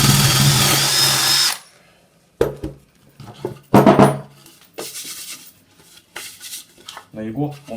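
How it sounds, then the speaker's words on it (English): Power drill boring through a piece of wood, one loud close burst of whining at the start, then a pause and a string of clattering handling knocks and scrapes. "Put the drill bit into the hole that's already come through"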